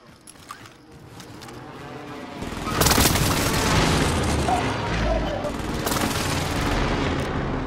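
Cluster strike explosions in Call of Duty: Modern Warfare erupt into a dense rolling barrage of booms and crackling blasts after a quieter opening, loud and sustained, with a voice talking over them.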